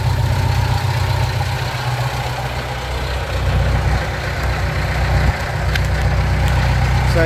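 Lancer Boss 501 forklift engine idling after starting, a steady, loud, close diesel-like rumble running continuously with no talk.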